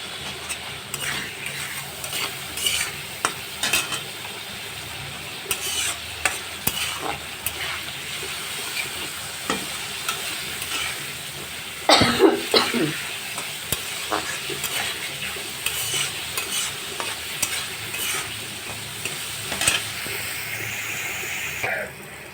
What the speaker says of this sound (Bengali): মশলাটা সুন্দর করে কষালাম।